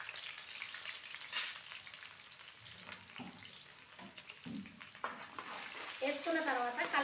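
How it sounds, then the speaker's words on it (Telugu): Four thinly sliced onions fry in hot oil in a pan for a Telangana-style fish curry, a steady, close sizzle with light stirring throughout and a faint voice toward the end. "అయితే 4 ఉల్లిగడ్డలు సన్నం కోసుకొని వేసుకోవాలి."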